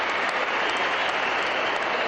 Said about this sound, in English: Warm applause for Portugal.